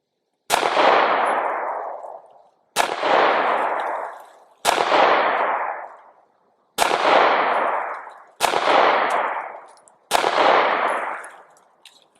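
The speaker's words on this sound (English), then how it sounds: "Let's go ahead and put another target up and put some more rounds" Six single gunshots fired at a target from a handgun fitted with a Swampfox Sentinel II red dot sight, each a loud sharp crack with a decaying ringing tail, spaced about two seconds apart with silence between.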